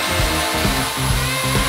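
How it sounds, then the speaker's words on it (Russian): Revolt CS2800 circular saw cutting through a wooden beam, a loud continuous motor whine with the blade load rising and easing in a rough rhythm, close up and alone. "Попробуем, как справляется данная пила с этим брусом"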